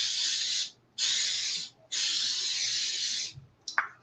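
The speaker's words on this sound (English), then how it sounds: "what you want to make sure is for the pan, which you can do, is spray it down." Cooking oil sprayed onto a pan in three close hissing bursts, each under a second, with short gaps and a faint clatter at the end; no talking.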